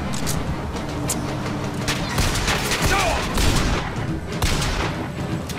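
Rapid gunfire bursts and booms from a BioShock Infinite shootout, loud and dense over a rumbling game soundscape, with repeated sharp shots across the whole stretch.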